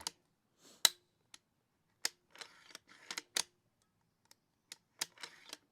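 Crisp mechanical clicks and snaps from a function check of an Accuracy International AXMC rifle chambered for .338 and .308: a dozen or so sharp, close metallic clacks in irregular bursts with quiet gaps between.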